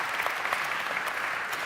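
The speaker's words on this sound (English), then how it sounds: "Is this the first impromptu applause?" Short, faint burst of spontaneous applause from an audience at a climate politics forum, a soft steady patter of clapping heard briefly from a distance.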